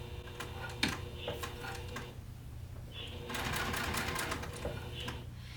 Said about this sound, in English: While I'm sewing, I'm going to be watching to make sure my teeth stay in the middle